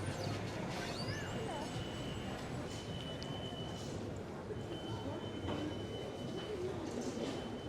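Subway train rumbling through the Times Square station in New York, a steady loud roar with faint wheel squeal and thin high tones, station noise throughout.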